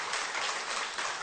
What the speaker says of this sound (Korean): 우리 박수로 환영했습니다